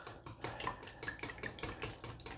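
Eggs and vanilla essence mixed together in a bowl for banana bread batter: close, rhythmic stirring strokes with light clinks, continuing steadily throughout.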